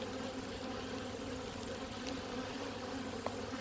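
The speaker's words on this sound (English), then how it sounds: "you ought to have plenty of bees released in the air and they're agitated" Agitated honey bees swarm in the air during an autumn hive inspection, producing a steady, dense buzz that holds close and even throughout.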